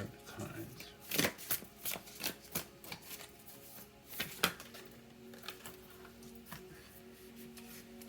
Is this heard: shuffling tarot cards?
yes